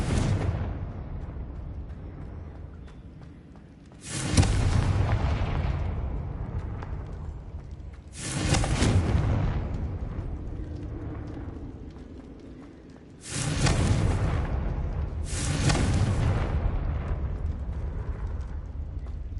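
Confringo explosive spell from the video game Hogwarts Legacy, fired repeatedly: four separate loud blasts at uneven intervals, each a sharp burst followed by a long rumbling decay.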